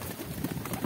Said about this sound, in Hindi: किस तरीके से कबूतर होते हैं क्या गाइस देख सकते हैं आप